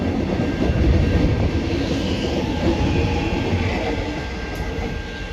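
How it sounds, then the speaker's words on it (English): Last train at Surrey Hills railway station in Melbourne rumbling past close by, a loud continuous rolling roar with faint wheel clatter and no talking. "Is that the last train?"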